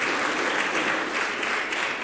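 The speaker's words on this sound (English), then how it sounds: "A round of applause" A crowd applauds steadily at The Whitworth art gallery, a dense wash of clapping that holds at an even level without pause.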